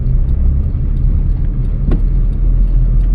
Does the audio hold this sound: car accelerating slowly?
yes